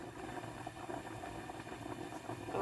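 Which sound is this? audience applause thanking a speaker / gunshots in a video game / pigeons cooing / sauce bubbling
sauce bubbling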